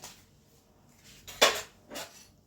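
A metal bowl set down into a pot over glowing charcoal while making no-onion, no-garlic paneer makhanwala, giving one sharp metallic clink followed by a softer second clatter, close and otherwise quiet.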